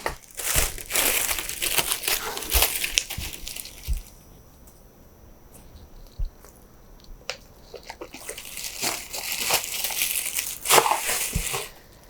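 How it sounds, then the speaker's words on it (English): Pink tissue paper unwrapped from a knitting parcel gives repeated close crinkling and crumpling rustles, busy at the start, quieter through the middle, then rustling again toward the end. "we have the same pink tissue paper as was in the main box"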